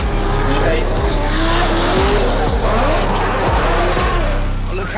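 Drift cars slide hard into a fast corner at a UK drift championship round, tyres squealing in long wavering screeches over loud, constant engine roar, with a commentator's voice woven through.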